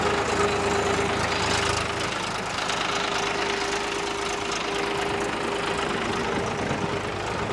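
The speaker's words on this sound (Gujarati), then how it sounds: "આ તમારી નજર સામે આ ટ્રેક્ટર હાલી રહ્યું છે ઓટોમેટિક" A tractor engine fitted with GPS autosteering runs steadily while the machine drives itself, giving a continuous close idling drone with a low knocking pulse and a faint steady whine, no talk over it.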